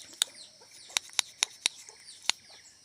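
Sharp, brief poultry sounds, likely clucking, come in irregular bursts, about six spaced across a quiet background, fairly close and moderately loud.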